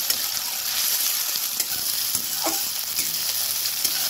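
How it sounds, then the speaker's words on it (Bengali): Sliced onion lightly frying in a pan for a coriander chicken dish, a continuous close sizzle with scraping stir strokes and small clicks throughout, no talk. "এবার ভালোভাবে নেড়ে পেঁয়াজটাকে একটু হালকা ভেজে নেব।"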